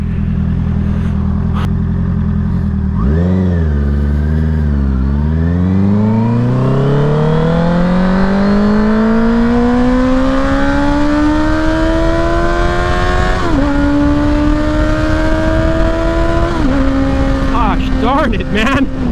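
A 2021 Honda CBR650R motorcycle accelerates hard in third gear, its engine note climbing steadily and loudly over many seconds, with a brief dip and gear-shift jump near the end, heard close up throughout.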